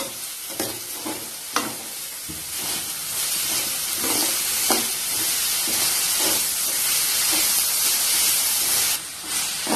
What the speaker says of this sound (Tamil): 2 மீடியம் சைஸ் தக்காளி கட் பண்ணி வச்சிருக்கோம், அதை சேர்த்திக்கலாம். நல்லா வதக்கி விட்டுக்கோங்க.